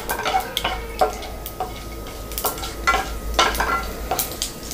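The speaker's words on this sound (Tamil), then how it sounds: "கடுகும் நல்லா பொரிஞ்சிட்ருக்கு." Mustard seeds splutter in hot oil in a pan, giving a steady, close crackle of sharp irregular pops and ticks over a soft frying hiss, with no talking.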